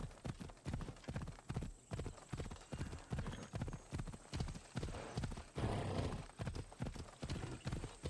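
A horse gallops in Assassin's Creed Odyssey, a fast steady rhythm of hoofbeats on a road that runs throughout, with a brief whinny-like swell near the end and no clear talk.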